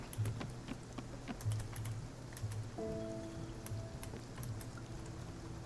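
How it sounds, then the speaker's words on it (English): Steady soft rain from a rainstorm in Spiritfarer, with scattered sharp drips and taps over a quiet, continuous hiss, plus a faint sustained tone entering partway through. "I've been stuck in this rainstorm"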